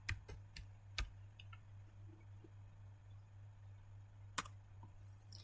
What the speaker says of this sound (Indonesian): lalu kita akan coba mengetikkan IP root print